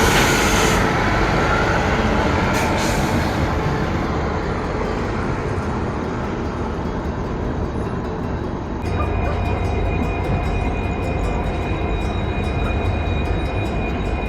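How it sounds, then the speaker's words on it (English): On board a train departing Yeshwantpur railway station in Bangalore, a loud, steady rumble of wheels and carriage runs throughout and shifts in tone partway through, with no talking. "So now we have departed on time from Yeshwantpur railway station"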